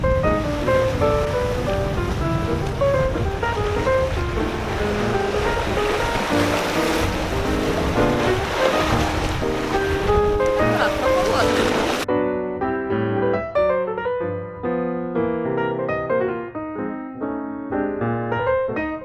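Sea waves on the shore at Nesebar wash and roll continuously, loud and close with wind noise, then give way to a lighter, clearer stretch near the end.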